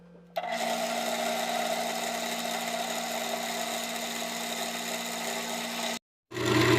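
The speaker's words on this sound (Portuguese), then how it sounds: "Agora eu estou passando uma broca de 3 milímetros só até essa profundidade, que é para o parafuso ficar passante aqui nessa tampa" A small electric drill with a 3 mm bit bores into a cover piece, giving a steady, close, high whine that holds for about six seconds, cuts out abruptly, then spins up again.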